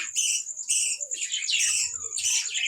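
Budgerigars in an aviary colony chirp and warble close by, with several overlapping high, bright twittering calls in quick, irregular bursts.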